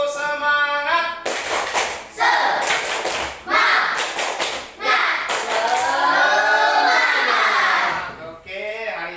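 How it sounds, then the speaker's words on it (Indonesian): A school class doing a spirit clap together: bursts of rhythmic group hand clapping alternate with voices chanting in unison, loud and close in a classroom. "Bapak ingin kita semuanya bertepuk semangat"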